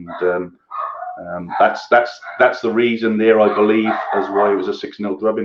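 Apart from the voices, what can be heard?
dog barking in the background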